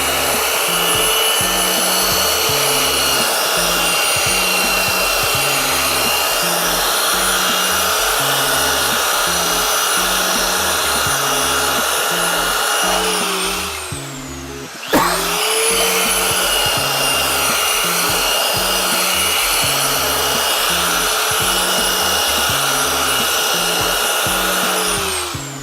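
Belt sander working a wooden kitchen project piece held against a bench stop, a loud steady whine and rumble with one brief dip and restart midway.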